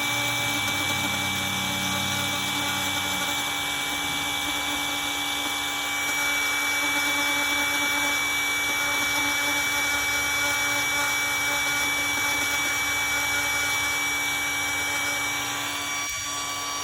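A power sander works the fiberglass hull of a jetski boat with a constant, high-pitched mechanical whine and hum. The sound is steady and moderately loud, swelling slightly partway through, with no talking.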